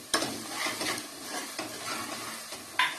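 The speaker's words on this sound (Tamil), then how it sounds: "இப்ப இது எல்லாத்தையுமே நல்லா பெரட்டி விட்டுறலாம்." A mutton gravy with salt, coriander leaves and a kilo of washed mutton is stirred in a hot pan, a wet sizzle running throughout under repeated scraping strokes of the spoon, close and busy.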